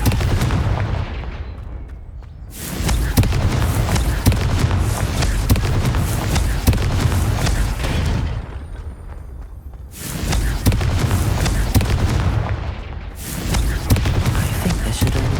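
Repeated bursts of the Confringo blasting spell smashing vases in Hogwarts Legacy, heavy booming impacts with crashing debris. Loud, dense blasts come in rhythmic waves separated by brief quieter dips.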